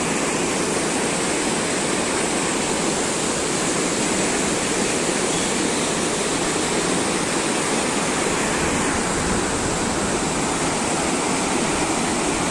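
Floodwater of the Musi river rushes past in a loud, continuous broadband roar that stays steady and close throughout, with no voices.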